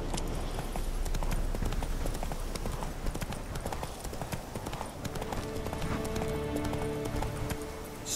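Roach, the horse in The Witcher 3: Wild Hunt, gallops steadily with rapid, continuous clip-clop hoofbeats, loud and close over faint ambient game sound.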